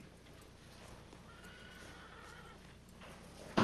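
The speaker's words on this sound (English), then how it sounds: "Pretty horse, huh?" A horse neighs in a drawn-out, faint whinny over a steady outdoor background, then a sudden loud burst closes the sequence.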